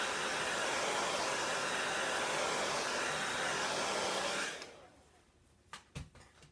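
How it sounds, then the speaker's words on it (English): Hair dryer blowing on chalk paste over a vintage truck design, a loud, steady whoosh running close by for about four and a half seconds before switching off, followed by a few faint handling knocks. "with my hair dryer."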